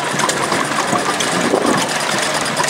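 A line of tractor engines idles at a village show in Spilsby, a continuous, rumbling chug, loud and close, with a steady knocking texture throughout and no talking.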